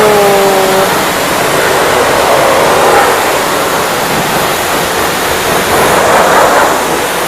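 A powerful jet of water blasts against the side of a rental car, a loud, dense, continuous hissing spray drumming on the bodywork from close range throughout, with no talk.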